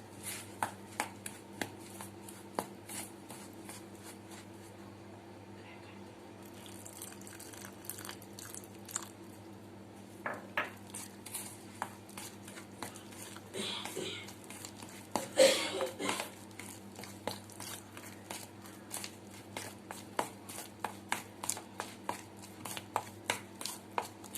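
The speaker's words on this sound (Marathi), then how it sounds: "व्यवस्थित आपल्याला फेटून घ्यायचं आहे" Eggless cake batter is whisked in a bowl, giving a steady run of quick, light clicking and tapping strokes that keep a fairly regular rhythm over a low hum, with a few louder knocks along the way.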